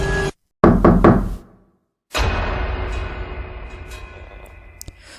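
Three heavy knocks on a door come in a quick continuous cluster, loud and close, followed by a long ringing, reverberant decay as a horror sound effect.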